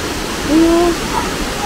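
Rushing water at Tinago Falls near Iligan City makes a steady broadband roar, close and continuous, with a short vocal sound partway through.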